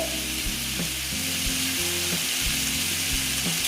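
Chopped ash gourd fries in a hot pan with a steady, loud sizzle, while a spatula stirs and scrapes against the pan in periodic knocks, close up and without speech.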